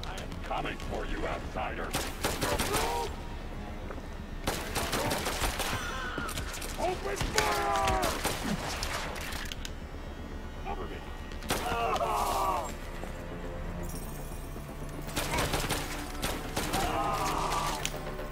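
Gunfire in the VR shooter game Synapse played on PS VR2, bursts of shots and impacts scattered throughout, with someone talking over much of the action.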